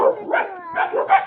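A dog barks several times in quick succession, close and fairly loud, the yelping barks spaced in short uneven bursts with no talk over them.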